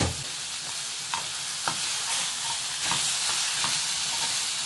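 Coconut pieces and green chillies sauté in an oiled pan, giving a steady, close hiss and sizzle with a few soft stirring scrapes and no voices.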